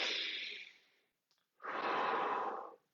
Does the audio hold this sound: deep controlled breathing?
yes